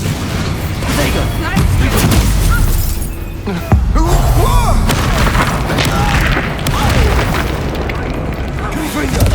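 An Expulso blasting spell explodes during a Hogwarts Legacy video game duel, with loud repeated booms and shattering bursts amid a dense, continuous battle din and voices speaking throughout.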